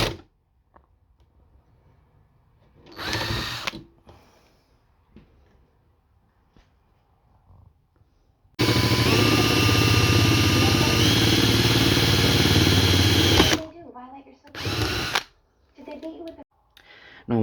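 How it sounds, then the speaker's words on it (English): A power drill bores holes into the roof of an RC truck, a Ford Bronco body, running as one loud sustained whine for about five seconds between quieter handling noises. "now we can drill some holes"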